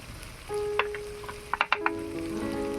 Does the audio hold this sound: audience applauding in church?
no